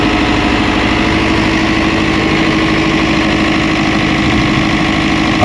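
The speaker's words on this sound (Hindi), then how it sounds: "आप देख सकते हैं कितना एकदम स्मूथ जनरेटर चल रहा है," A Kirloskar industrial diesel generator runs steadily and loud at close range, an even, unbroken engine drone with no talk.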